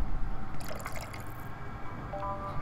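Water drips in the Yuppie Psycho video game, a few small wet drips and trickles over a low background hum, with no talking.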